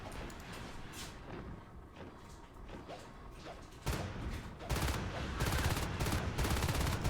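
Shotgun blasts and rapid gunfire in a video game fight, with a dense run of loud, overlapping shots that grows louder and more continuous toward the end.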